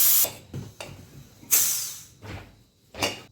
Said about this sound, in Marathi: आता कुकर झालेला आहे भाताचा, आपण आता त्याची वाफ काढून घेऊया